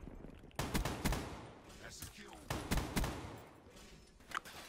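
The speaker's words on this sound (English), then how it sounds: "So I resort to the shotgun." Shotgun blasts in Black Ops 3, several loud, sharp booming shots spaced about half a second to two seconds apart, each with a short decaying tail, over faint game ambience.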